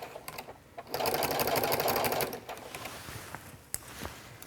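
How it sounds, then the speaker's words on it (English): Sewing machine fitted with a walking foot stitching a waterproof backpack, a close steady mechanical run of about a second and a half between quieter handling sounds. "You don't want to go too fast with your walking foot, and you always want to lock your stitches at the beginning and the end."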